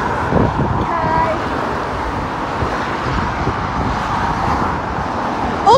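A car rolls past on a road amid steady traffic rumble and wind, with voices talking over it.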